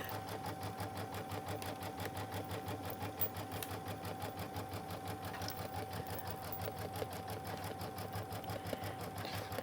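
A quilting sewing machine runs steadily at high speed, its fast even needle rhythm and motor hum loud and constant throughout, with no talk over it.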